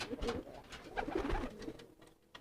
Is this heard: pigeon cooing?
yes